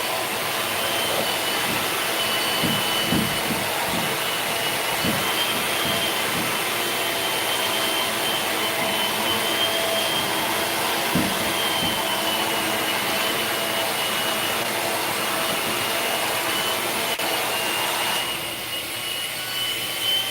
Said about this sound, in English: So the mixer makes a lot of noise.